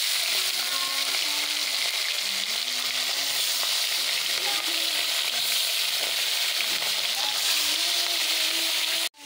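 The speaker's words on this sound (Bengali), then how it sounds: "এখানে মাছের মাথাটাকে গোটা দেবো, কড়াই তেল গরম হয়ে গেছে" Loud, constant sizzling of a whole fish head frying in hot oil in a wok, with faint clinks and a brief tonal hum underneath before it cuts off.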